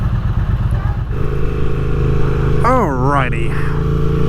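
A 2024 Triumph Speed Twin 900 motorcycle engine idles with a steady, close, low rumble, and someone speaks briefly over it.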